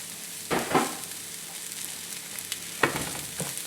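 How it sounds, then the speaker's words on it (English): Diced pumpkin is tipped into a pan of rice pilaf cooking in stock and tossed through, giving a soft, steady sizzle with two brief clattering stirs, close and fairly quiet. "I'm going to add in my pumpkin."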